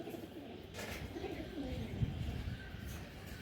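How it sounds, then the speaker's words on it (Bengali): Racing pigeons with proven race results coo softly and steadily through a continuous background hum, with no voices. "যারা কবুতর রেস করতে চান তারা এই পেয়ারটা নিতে পারেন।"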